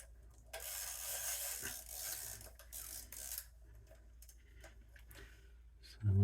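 A Zenza Bronica S camera is loaded with film. Its winding mechanism gives off faint, close ratcheting and clicking over a soft hiss, followed by a few isolated handling knocks and a louder thump at the end.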